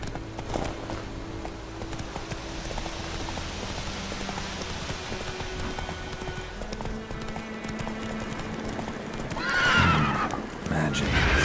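Horse in The Witcher 3 video game with neighs and hoofbeat clip-clop over rain-like ambient game sound, a louder whinny burst near the end; a voice speaks briefly.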